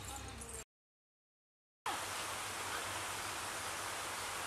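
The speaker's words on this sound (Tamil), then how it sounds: "மழை அதிகமாக பெய்யுது பாருங்க." Heavy rain pours down outdoors in Bangkok, a steady dense hiss that cuts out briefly, then returns loud and unbroken; a short burst of the same rain noise opens the stretch.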